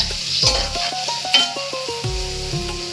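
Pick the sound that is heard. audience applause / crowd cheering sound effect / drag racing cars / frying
frying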